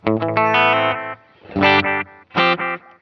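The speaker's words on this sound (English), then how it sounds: "so this is spring reverb and an analog delay" Electric guitar through a Wampler Catacombs delay/reverb pedal plays bright, sustained chords and notes in short phrases, colored by a springy spring reverb and echoing analog delay, with no voices.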